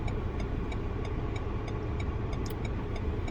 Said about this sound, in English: we're getting off the Autobahn.